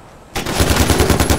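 A mounted machine gun in the shooter game Far Cry 4 opens up in a loud, rapid, continuous burst of gunfire after a brief quiet moment.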